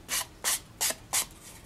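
Four quick, evenly spaced scratchy rubbing strokes of a sanding block against a cardstock edge, close and fairly quiet.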